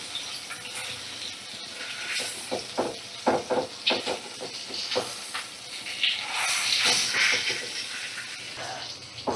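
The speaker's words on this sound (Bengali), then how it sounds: "মিডিয়াম ফ্লেমে রেখে ইলিশ মাছের মাথাটা ভাজা করে নেব" A hilsa fish head frying in oil on a medium flame, a steady sizzling hiss with scattered crackles and pops rising and falling throughout.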